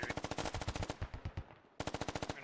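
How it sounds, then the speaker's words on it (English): A heavy machine gun fires in the military shooter game Squad, with loud, rapid sustained bursts of evenly spaced shots, a brief pause, then another fast burst, close and dominant. "My HMG has opened up on contact south."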